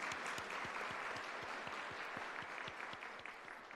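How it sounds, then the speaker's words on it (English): An audience at a WWII end-of-war 80th anniversary ceremony claps steadily after a national anthem performance, a dense, even round of applause at moderate distance that gradually thins toward the end. "Let's give them a round of applause."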